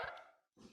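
An excited pet dog barks at trick-or-treaters outside, giving a short, faint bark followed by a brief second burst, with no talking.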